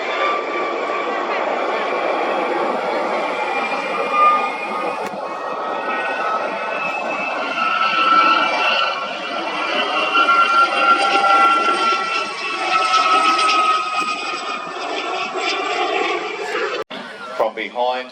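A Gazelle helicopter flies at the Midlands Air Festival 2023 with a loud, sustained engine and rotor drone that swells and fades slightly as it passes, while a voice talks over it.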